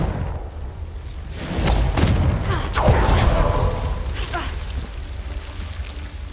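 A fire-type blast spell cast in a Hogwarts Legacy battle, heard as a deep booming explosion with a rushing, crackling tail, rising mid-clip over a steady low rumble of game ambience.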